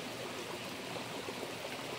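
Mountain stream water flows at the Sangili Parai bathing spot on the Sathuragiri hill, running low, a steady, close rushing wash with no other sounds.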